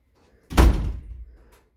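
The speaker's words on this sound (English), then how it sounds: "This time, Bear shut the door firmly and locked it tight." A door is shut firmly and locked: one heavy, close thud that rings out briefly and fades, followed by a faint small click, with no voices.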